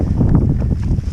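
Strong wind on the climb up Mount Roraima buffets and rumbles across the microphone in uneven low gusts, loud and continuous throughout.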